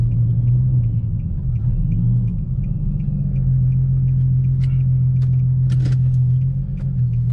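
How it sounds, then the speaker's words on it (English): An Infiniti G37 engine idles with a steady low rumble and then winds down as it is shut off, leaving a few faint clicks and mechanical ticks at close range. "if I just shut off the car like this"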